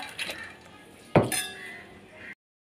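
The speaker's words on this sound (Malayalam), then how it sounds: "വൻപയർ കുക്കറിലേക്ക് ഒന്ന് ഇട്ട് കൊടുക്കാം" Small clinks and a single sharp knock of metal as soaked cowpeas are put into a pressure cooker, with a faint hiss beneath.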